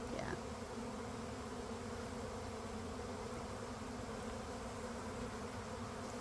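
A swarm of bees around a swarm box on a farm, a soft, steady buzzing hum that fills the background evenly, distant and low in level with no voices.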